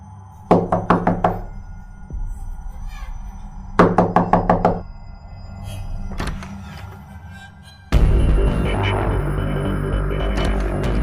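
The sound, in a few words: knocking on a door, horror story sound effect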